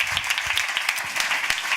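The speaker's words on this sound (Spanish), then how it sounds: "un aplauso para la gente que, como Elena y su equipo, hacen que la ciencia llegue a quien tiene que llegar" Applause from a science-communication talk audience, a fairly faint patter of claps spread across the short stretch with no voice over it.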